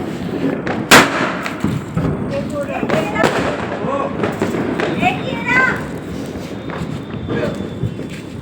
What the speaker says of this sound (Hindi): अब आपको थोड़े और पटाखे दिखाते हैं